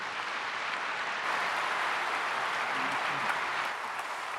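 Indoors at a prayer meeting lecture, an audience claps steadily to welcome a professor to the front, producing a dense, even wash of applause that continues throughout.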